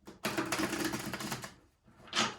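Tarot cards being shuffled by hand, a dense papery riffling and rustling that runs steadily for over a second, pauses briefly, then returns in a short burst, close and fairly loud with no talking.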